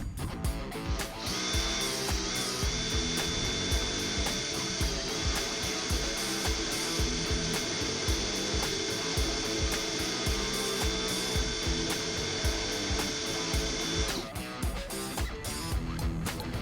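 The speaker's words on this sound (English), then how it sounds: "I'm going to drill in a little bit further with my slightly larger drill bit." A power drill runs steadily and loudly for about thirteen seconds, a continuous high whine with grinding as a slightly larger bit bores into a broken metal bolt, then stops.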